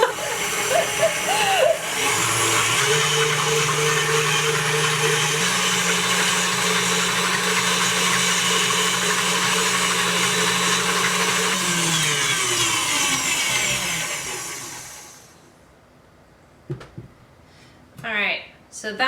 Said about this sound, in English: we are just whisking this on high speed until it forms stiff peaks